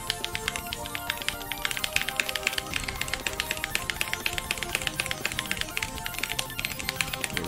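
Rapid, continuous clicking of a computer keyboard being typed on at close range, a dense even patter of keystrokes with no pauses and no voices.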